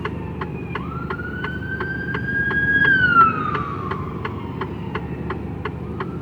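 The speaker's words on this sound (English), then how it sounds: "I can hear an ambulance coming." An ambulance siren wails, rising and sweeping slowly across the scene, growing louder before fading, over steady traffic rumble and regular ticking clicks, heard from inside a Mercedes Actros truck cab in the UK.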